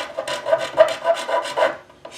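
A hand scraper rasps hide glue off a wooden serpentine chest in short, repeated strokes, close and fairly loud, in a steady back-and-forth rhythm with no talk.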